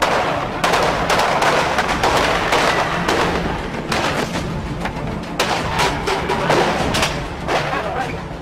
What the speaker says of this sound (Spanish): en apenas un segundo se escucha cómo son manipuladas las escopetas. Y 2 segundos más tarde suenan los primeros disparos.